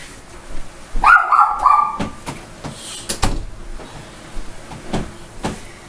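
An indoor door swings shut with a thud and latch, followed by several loud knocks and bumps; a dog may bark at the same moment.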